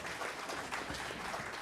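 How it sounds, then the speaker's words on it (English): Faint audience applause for students at a criminology conference's valedictory ceremony, a soft, continuous patter of clapping heard from a distance. "give a round of applause for our students who help us in organizing these programs."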